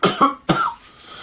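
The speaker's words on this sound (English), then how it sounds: "Don't cough your butt away." Two or three sharp, close coughs in quick succession, followed by a brief breathy trailing sound.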